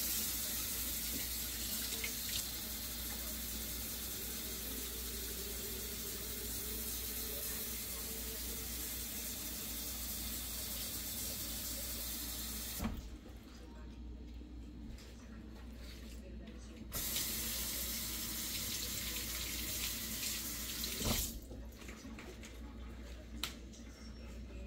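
Tap water runs steadily into a sink while eggshells are rinsed, a continuous close hiss and splash that breaks off twice for a few seconds before resuming.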